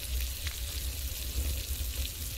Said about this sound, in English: Oh! It's sizzling away.